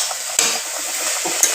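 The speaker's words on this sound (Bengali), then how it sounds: "এখন হচ্ছে আলু করলা ভাজা।" Potato and bitter gourd fry in a pan with a steady close sizzle, punctuated by two sharp utensil clacks as the pieces are stirred.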